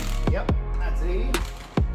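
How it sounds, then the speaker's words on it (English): A torque wrench ratchets in a few sharp clicks while a nut is torqued down to 80 foot-pounds on an old Chevy Blazer, close and metallic with brief pauses between clicks. "Just torquing this nut down."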